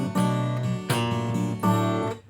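An acoustic guitar plays a blues pattern in which thumbed bass notes alternate with quick finger rakes across the higher strings, in three close, bright strummed bursts played alone.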